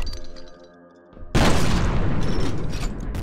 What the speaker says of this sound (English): The grenades detonate on impact